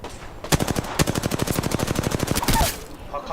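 Rapid automatic gunfire in Apex Legends, a tight string of sharp, loud shots rattling off for about two seconds after a couple of single cracks, then stopping.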